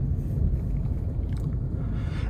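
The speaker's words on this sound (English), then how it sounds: "with that Boxer rumble, again, 2-liter 4-cylinder Boxer engine under the hood" Steady low engine rumble from a 2013 Subaru XV Crosstrek with a 2-liter four-cylinder Boxer engine and 120k miles, heard from inside the cabin while driving, continuous and fairly loud with some wind noise.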